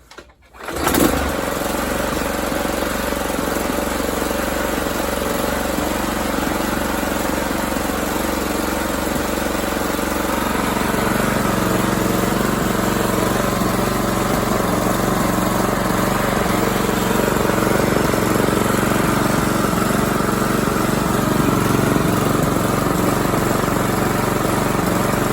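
A Toro 22-inch recycler lawn mower engine catches right after a pull and settles into a loud, steady, close running drone, idling slightly low, with no talking.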